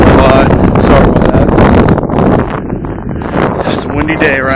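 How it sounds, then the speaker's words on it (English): Strong gusts of 58 mph wind in Martinsburg, Pennsylvania buffeting the microphone with loud, uneven roaring bursts, and a voice talks faintly underneath. "Just a windy day around here."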